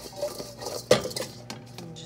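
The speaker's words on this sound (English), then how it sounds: "Agitating it around, making sure that the potatoes get nice and coated with the salt." Potatoes are tossed with melted ghee and salt in a metal pan for oven fries, giving a few quick clinks and scrapes of utensil against cookware with one sharper knock, close and fairly quiet.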